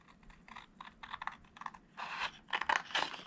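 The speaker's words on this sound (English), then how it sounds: "I'm going to use my scissors" Crisp snipping and crinkling paper sounds come in short bursts, growing denser and louder toward the end, close up with no talking.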